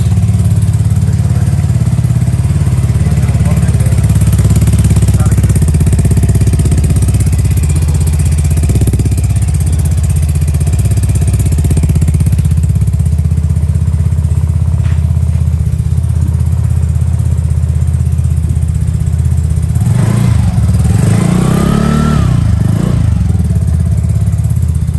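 A 2022 Vespa Sprint scooter engine runs at a steady loud idle up close, then is revved briefly near the end with a rising and falling whine.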